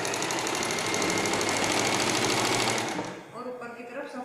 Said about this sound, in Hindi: मशीन इसलिए दी जाती है ताकि सारी सिलाई पीछे दब जाए